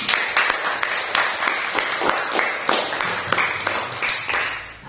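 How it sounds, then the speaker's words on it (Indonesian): Brief, scattered clapping from a small class of students, a few seconds of uneven hand claps close by. "Tepuk tangan dulu untuk kita semua."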